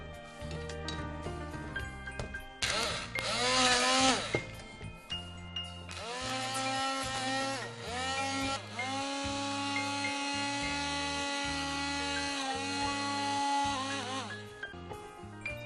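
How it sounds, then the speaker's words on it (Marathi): An electric kitchen grinder blends ingredients for a Punjabi-style recipe. It whirs loudly in several bursts with short pauses and a rattling, clinking jar, then runs in one long steady spin before winding down. "ग्राइंड करण्यासाठी सिंपली आपण ग्राइंडर घेतलेला आहे"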